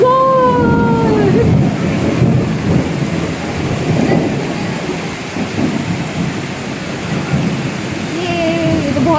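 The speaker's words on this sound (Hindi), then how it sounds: "ये तो बहुत तेज बारिश हो रही है भाई।" Heavy monsoon rain pouring down in Karachi, a loud dense roar of rainfall that fills the whole stretch, with faint voices and whistling tones near the start and end.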